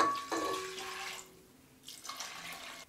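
Water poured into a cooker of toor dal with garlic and asafoetida for mango sambar, a short splashing pour of about a second followed by quieter trickles, close and fairly faint.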